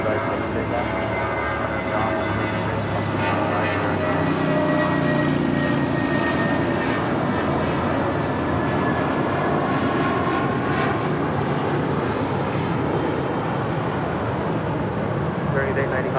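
At LAX an airliner takes off from runway 25 right, its engines a loud, steady roar that holds for the whole stretch while a tower controller's radio voice talks over it.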